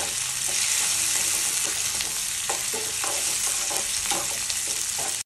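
Mustard seeds, cumin, onion, dried chilli, curry leaves and garlic frying in hot oil, a loud, steady close sizzle with scraping stirs of a spoon against the pan throughout.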